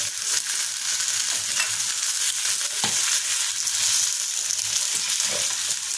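Chopped tomatoes sizzle and fry in a hot pan for an egg curry, a continuous crackling hiss with occasional stirring scrapes, close and fairly loud, no talking.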